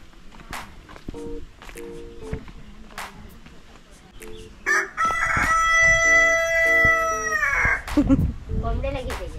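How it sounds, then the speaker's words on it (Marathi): A rooster crows loudly and close in a rural Maharashtra village, a long drawn-out call near the middle, with clucking fowl, footsteps and people talking around it. "कोंबड्याला घेते."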